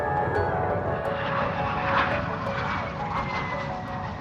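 An F-22 Raptor stealth fighter jet roars past in a steady, loud engine rumble with a rising and fading whine, heard alone without voices.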